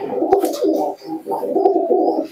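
Native Giribaz pigeons coo in soft, throaty rolling phrases, close and clear, repeating in a steady rhythm with a brief pause midway and no talking.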